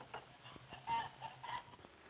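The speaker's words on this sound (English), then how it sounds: "His chickens are Rhode Island Reds." Faint, quiet clucking from Rhode Island Red chickens on a poultry farm comes in short scattered bursts, a few soft calls spread across a brief moment with low background noise.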